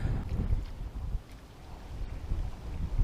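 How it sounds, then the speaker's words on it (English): Strong wind gusting across a reservoir at a carp fishing spot, a loud, steady low roar buffeting the microphone with surging gusts throughout. "this wind's definitely getting stronger and stronger by the minute"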